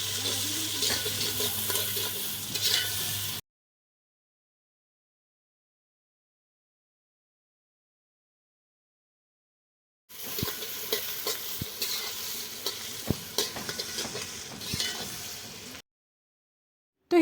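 Cauliflower frying in oil with masala, stirred in the pan: steady sizzling and scraping in two bursts separated by a long stretch of silence, close and fairly loud with no talk.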